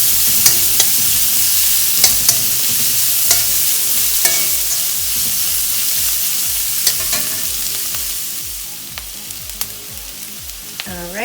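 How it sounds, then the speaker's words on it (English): Chopped onions sizzle and fry in a hot pan for a vermicelli upma, with a loud steady crackle broken by repeated scraping stirs of a spatula and no talking. "Let's add onion, and let's saute this for 2 to 3 minutes until they turn translucent."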